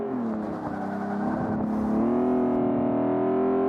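A BMW M3 accelerates hard, close and loud. The engine note climbs steadily, drops briefly as it shifts, then rises again in a strong, sustained rev.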